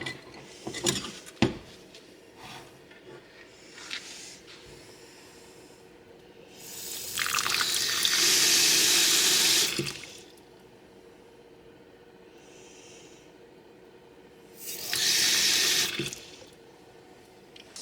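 Water running from a tap to water a houseplant indoors, two bursts of steady splashing flow separated by quiet with small clinks and handling noises, no talk.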